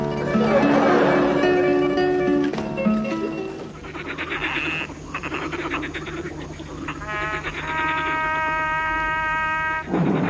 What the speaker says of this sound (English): The frogs are restless tonight